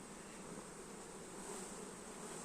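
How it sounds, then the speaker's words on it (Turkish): Young worker honey bees hum at a beehive during honey harvesting, a dense, steady buzzing of many insects that is faint and continuous, with no talking. "Aslında bunlar Tam böyle bizim arayıp da bulamadığımız genç işçi arılar arkadaşlar."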